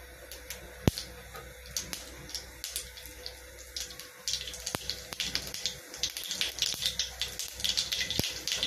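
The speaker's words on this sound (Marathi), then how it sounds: "मोहरी छान तडतडू द्यायची." Mustard seeds crackle in hot oil for a tempering. Scattered sharp pops rise over a soft, hissy bed and grow denser toward the end. No one speaks.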